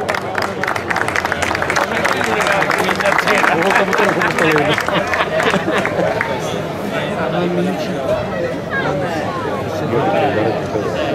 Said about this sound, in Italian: un applauso anche a Mercuri.